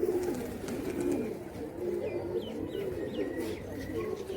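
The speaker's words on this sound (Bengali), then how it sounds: "এটা আমাদের বাড়ির শৈল কবুতর" Domestic pigeons coo softly in a home loft in Rajshahi, low rolling coos repeating over a few seconds with faint chirps and light background murmur.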